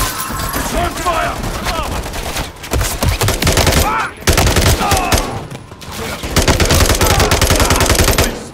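Call of Duty Modern Warfare 3 gunfight: loud, sustained automatic fire in rapid bursts crackles almost nonstop, with short gaps and shouted voices under the shooting.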